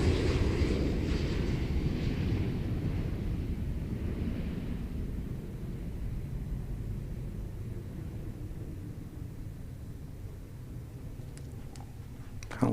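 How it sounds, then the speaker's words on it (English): An Air China airliner, Flight 170 bound for Beijing, roars steadily during takeoff, a broad low rumble with wind-like hiss that slowly fades over the span, alone without talk. "The flight taking off was Flight 170 Air China going to Beijing"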